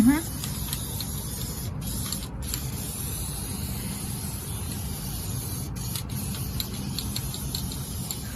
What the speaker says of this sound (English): I'm spraying something on my brand new truck